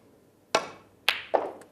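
A snooker cue strikes the cue ball during the 2024 World Snooker Championship final, a sharp, clean click in near-silence followed by two more crisp ball clacks.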